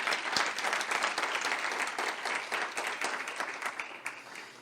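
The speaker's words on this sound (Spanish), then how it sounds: "¿Le puede dar un aplauso al Señor?" Church congregation applauding the Lord at a Christmas service in Cancún: dense, sustained clapping from a large crowd fills the room throughout, slowly thinning toward the end.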